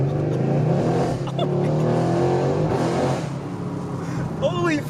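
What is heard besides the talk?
Subaru WRX car accelerating and revving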